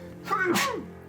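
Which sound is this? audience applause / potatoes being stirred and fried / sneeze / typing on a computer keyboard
sneeze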